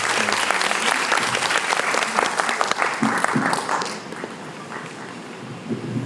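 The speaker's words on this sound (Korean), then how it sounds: "유지태 배우님께 큰 박수 부탁드리겠습니다" Loud audience applause for actor Yoo Ji-tae at a Bucheon International Fantastic Film Festival screening talk in Sol-an Art Hall, dense clapping that fades to a quieter room tail near the end.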